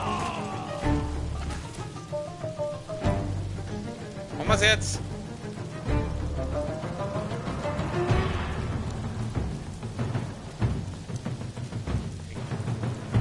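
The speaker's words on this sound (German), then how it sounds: "Jetzt regnet schon wieder." Steady rain and low rumbling in the background of Ghost of Tsushima, with music and a person talking over it in German.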